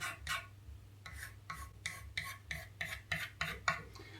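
A sanding block scrapes back and forth across a flat Les Paul guitar body in a luthier's workshop, about ten close, even rasping strokes in a steady rhythm with a low hum underneath.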